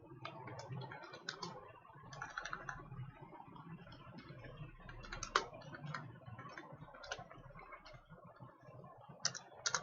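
Fingers type on a computer keyboard in Microsoft Word, a quiet, close run of uneven clicks and key taps that goes on throughout.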